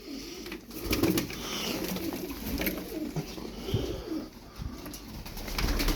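Tumbler pigeons coo softly and repeatedly in a loft, low throaty calls overlapping at close range over a steady background of rustling and faint ambient noise.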